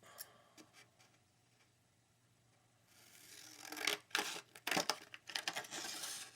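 Paper for a basic skirt pattern is cut out with scissors: quiet handling at first, then a cluster of crisp snips and rustling paper close by in the second half.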